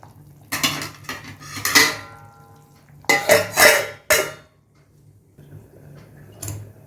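A lid goes onto a cooking pot of sweet tamarind stew with pumpkin pieces, making two bursts of close metallic clattering and clinks, then a near-silent pause and one faint final tap, with no voices.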